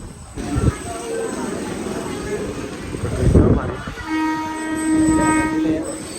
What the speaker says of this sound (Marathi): ह्या 4थ्या नंबर येत आहे ट्रेन